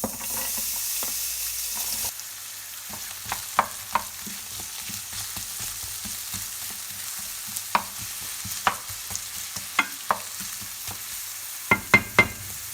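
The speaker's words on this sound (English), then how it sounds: "onions frying nicely for a few minutes" Sliced onions sizzle and crackle in hot vegetable oil in a pan, a steady frying hiss broken by sharp pops and stirring clicks, close and alone with no talk.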